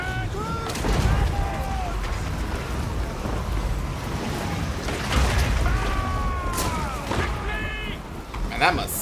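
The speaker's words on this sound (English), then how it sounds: "Fire those cannons! Fire the guns!" Cannon and gun fire in a Warhammer multiplayer battle, repeated heavy booms and bursts layered with whistling and rising shell tones, busy and continuous, with a voice talking over the combat.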